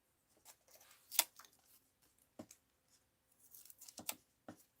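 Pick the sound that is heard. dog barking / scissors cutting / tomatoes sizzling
scissors cutting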